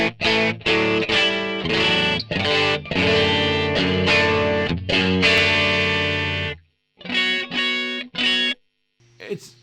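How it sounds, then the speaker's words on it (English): An electric guitar played through a Vox AC30 amp model on a Zoom MS-50G pedal, giving a loud, slightly dirty edge-of-breakup tone with ringing chords and short strums, then a pause and a few more chords. "So this is a Vox AC30."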